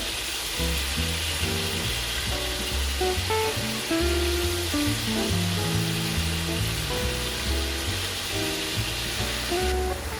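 Scallops brown and sizzle in a frying pan, a steady close hiss with soft crackle running the whole time under a thick layer of music.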